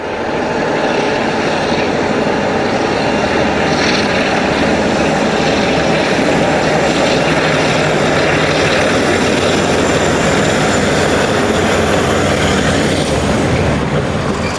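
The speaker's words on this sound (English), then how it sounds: "47, 385 and 395, temporarily renumbered to reflect their multi-working ability, passed Normanton with a Leeds to Southampton Freightliner in 1994." Two British Rail Class 47 diesel locomotives haul a Leeds to Southampton Freightliner past Normanton, a loud, sustained diesel roar with a broad, continuous drone and no break across the whole passage.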